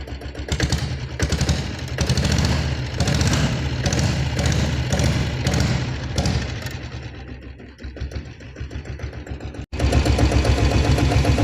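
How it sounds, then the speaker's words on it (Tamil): A Royal Enfield diesel Bullet motorcycle idles close by with a slow, even thumping beat that holds steady, eases off slightly near the end, then returns strongly after a short break. "பீட் சவுண்டு கேளுங்க."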